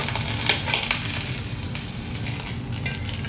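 Hot oil sizzling loudly in a pan while cooking bhuna prawns, a constant crackling hiss with occasional stirring clatter, close and without talk.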